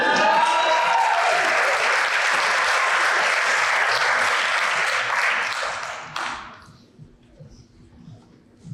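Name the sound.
applause at law enforcement graduation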